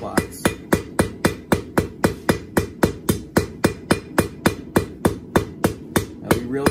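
A hammer forging an even taper on a bar of hot steel, about two dozen sharp ringing blows struck at a steady, fast rhythm, close and loud with no talk.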